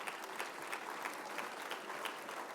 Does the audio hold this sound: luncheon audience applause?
yes